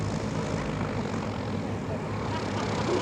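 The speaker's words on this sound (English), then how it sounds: "Often we land these airplanes in grass" A propeller airplane drones steadily overhead at an air show, a continuous engine roar that stays fairly loud throughout.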